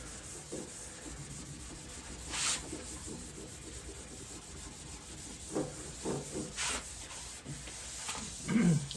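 Soft, repeated abrasive rubbing strokes of a green Scotch-Brite pad scrub across a 1974 Ford Bronco tailgate, close and fairly quiet, with brief louder swipes scattered through a steady hiss.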